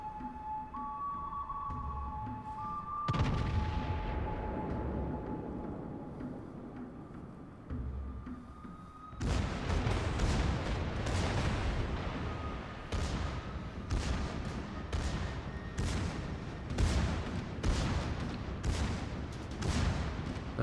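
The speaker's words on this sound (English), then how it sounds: "You can see the secondaries going off, which is a big strength for this ship" Secondary guns on a battleship in World of Warships fire repeatedly, producing heavy booming volleys that roll together into rapid, close bursts after a brief lull.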